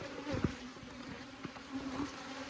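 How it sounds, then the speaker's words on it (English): Bees buzz around a beekeeper after a hive frame is slammed down during honey robbing, a faint, restless hum with a few individual insects flying past close by. "now they're starting to go after me because I slammed that frame on the bees"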